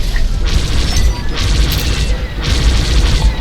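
An enemy starfighter explodes in Star Wars Squadrons: loud booming blasts and crashing bursts roll over a constant deep engine rumble, with two or three big swells of noise in quick succession.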